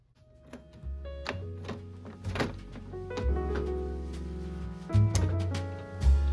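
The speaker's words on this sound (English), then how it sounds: "open the scanner unit, then open the ink tank cover" An Epson ET8550 printer's scanner unit and ink tank cover being opened, heard as a series of close plastic clicks, thunks and a hinge creak, with a low mechanical hum underneath.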